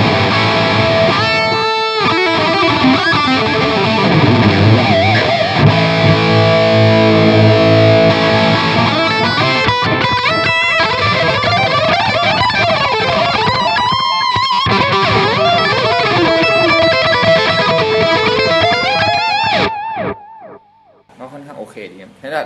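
Electric guitar played through distortion and a Caline CP-19 Blue Ocean delay pedal: loud, gritty phrases with echoing repeats that trail off into quiet near the end.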